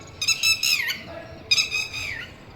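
A bird gives two loud, close squawking calls with a falling pitch, about a second apart, over faint room noise.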